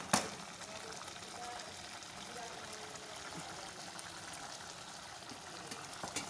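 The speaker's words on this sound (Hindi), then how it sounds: "अब हम लोग इसके अंदर कुकिंग ऑयल शामिल करने लगे हैं" Cooking oil pours into a pot of keema aloo as a faint, steady trickling stream, opening with a soft clunk and running on evenly without speech.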